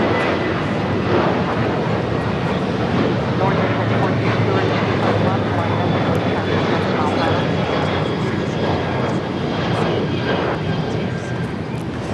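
An Alaska Airlines Boeing 737-700 takes off at Los Angeles airport, bound for Portland, Oregon, its jet engines producing a broad steady roar with a faint high whine, moderately loud and sustained throughout.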